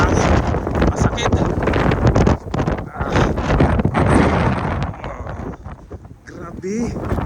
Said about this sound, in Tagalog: Grabe, ang lakas ng hangin, no? Grabe, nagsisigawan kasi yung hangin masakit.